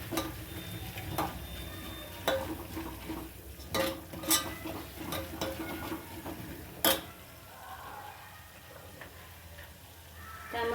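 Tempering for amti cooking in a pan over a low gas flame, a soft steady sizzle with scattered sharp ticks and clinks of a spoon against the pan, fairly faint and close, no talking.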